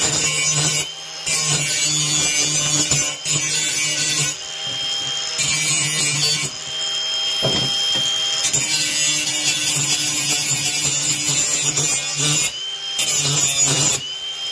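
A metal blade is sharpened with a loud, harsh, rasping grind that runs in long strokes broken by several brief pauses.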